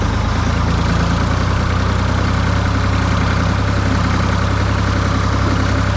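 A tractor engine idles close by, a low, steady, constant rumbling drone with no speech over it.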